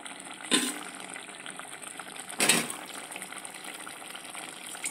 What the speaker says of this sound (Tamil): கொதி நல்லா வரட்டும்.